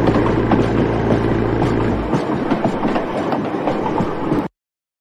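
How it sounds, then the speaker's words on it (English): A hijacked train brakes and slows, its low rumble dropping away partway through while clattering wheel and rail noise carries on until it cuts off. "the train's brakes have applied and now we're slowing down"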